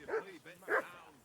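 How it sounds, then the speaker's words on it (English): A dog in the medieval open-world RPG Kingdom Come: Deliverance II gives two short, close barks about half a second apart, with a faint whimpering tail under the game's background. "I assume you can hear that damn dog of yours barking."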